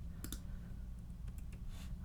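Computer keyboard keys and a mouse clicking while copying and pasting text: a few quiet, separate clicks spaced irregularly over a low, steady background hum.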